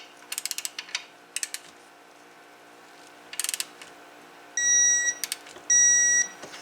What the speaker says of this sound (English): I need to torque it to 30 foot-pounds.